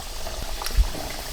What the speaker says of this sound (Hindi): जैसा कि आप देख सकते हैं हमने समोसों को तलने डाल दिया है